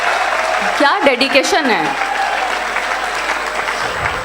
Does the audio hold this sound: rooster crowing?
no